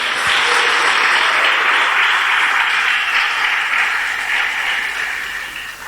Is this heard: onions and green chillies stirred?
no